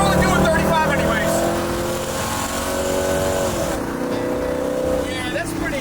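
A 1969 Chevrolet Camaro engine roars and revs loudly as it accelerates hard from a dig, with a steady rising drone and no talking.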